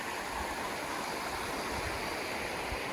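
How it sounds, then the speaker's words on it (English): Nantcol waterfalls stream rushes past a riverside campsite, a steady, dense, moderately loud roar of flowing water with no voices. "this is where we are, Nantcol waterfalls"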